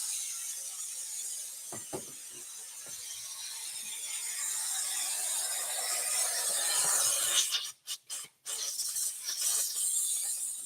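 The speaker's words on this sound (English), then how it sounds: "That's the air compressor letting its last of its air out" An air compressor in a shed automatically drains its remaining air through the drain valve, a long steady hissing rush that swells slightly, then breaks into a few abrupt stutters before resuming.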